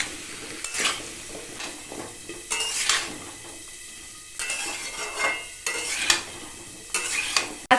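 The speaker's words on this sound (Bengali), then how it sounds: "কুমড়ো আলুটা 2 মিনিট ভালো করে ভেজে নিয়েছি, এবারে দিয়ে দেব পরিমাণ মতো নুন আর দেব একটু হলুদ গুঁড়ো।" Raw pumpkin and potato being stir-fried with salt and turmeric, a spatula scraping and clattering against the pan in repeated bursts over a soft sizzle, close and fairly loud, no voices.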